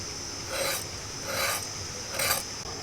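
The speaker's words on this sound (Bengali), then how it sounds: "প্রথমে এই পটলের যে বাইরের ছালটা আছে সেই ছালটাকে এভাবে ঘষে নেব।" Pointed gourd skin is rasped off in three short scraping strokes, close and distinct, with quiet pauses between them and no talk.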